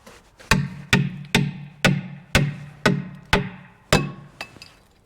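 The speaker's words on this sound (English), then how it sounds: "It's a light hammer, but it's better than no hammer." A light hammer striking a skid steer bucket, about nine sharp metallic blows in a steady rhythm, each ringing briefly and fading, close and loud, no talk.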